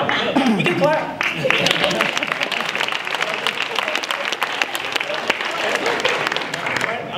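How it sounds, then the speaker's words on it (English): Audience clapping at a university Black student union consciousness conference, a dense, sustained wash of applause from a sizeable crowd, with voices and cheers mixed in throughout. "We can clap."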